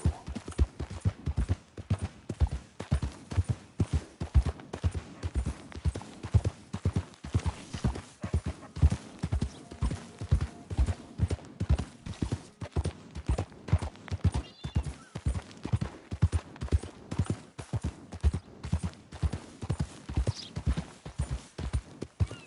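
Steady, rhythmic clip-clop of horse hooves trotting close by in Red Dead Redemption 2, continuing evenly throughout with no talking.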